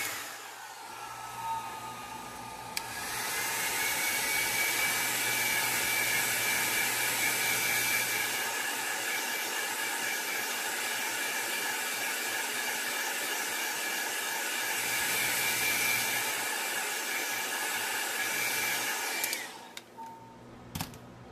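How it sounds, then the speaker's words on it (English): A blow dryer roars continuously with a high, airy whine, dipping briefly midway, then switches off near the end with a clatter. "now I'm going to give this a quick dry with my blow dryer"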